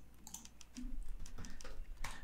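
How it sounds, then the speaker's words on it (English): Keyboard typing in The Sims Online, a quick run of soft clicking keystrokes with a low hum underneath, faint and close. "Today is typing."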